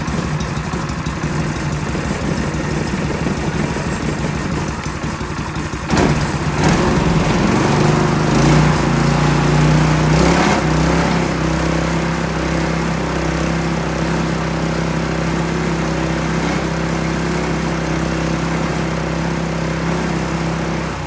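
A Honda GX200 engine on a Dewalt pressure washer runs with a loud, close, steady throb that shifts to a lower, smoother idle partway through, continuing alone without talk.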